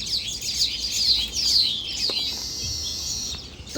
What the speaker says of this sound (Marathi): किती चिमण्या येत आहेत सुगरण म्हणतात या पक्षाला